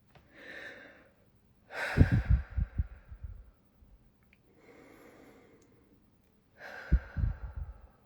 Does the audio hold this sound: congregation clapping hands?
no